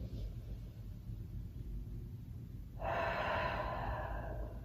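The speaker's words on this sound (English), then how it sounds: "We take a few cleansing breaths in through the nose. And then exhale out of an open mouth." Deep cleansing breaths in a yoga flow, exhaled through an open mouth: a soft, breathy rush of air starts partway through and holds steady and close over a low background rumble.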